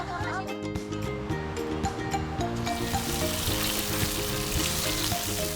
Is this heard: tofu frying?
yes